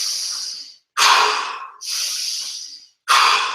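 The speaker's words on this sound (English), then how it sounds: "This is chest breathing." Deep breathing into the chest during a qigong class, heard as four close, loud breaths alternating long airy inhales and exhales with brief pauses between them.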